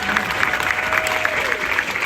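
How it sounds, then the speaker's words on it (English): A studio audience breaks into a dense, steady round of applause, loud and close, sustained for the whole moment without pause. "So it would be really lovely to just give her a round of applause."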